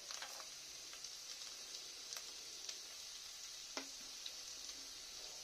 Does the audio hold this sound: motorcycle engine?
no